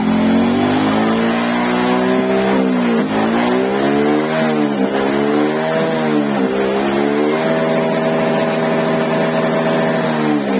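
Suzuki Raider J115 Fi motorcycle engine revving in first gear, loud and close, with repeated rising and falling rev sweeps before settling into a steady higher idle.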